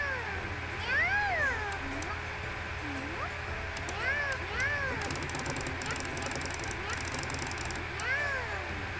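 Cat girls in the Nekopara Vol. 0 video game give a string of high, gliding meows, several overlapping and recurring throughout against a steady background bed, with rapid clicking texture joining partway through.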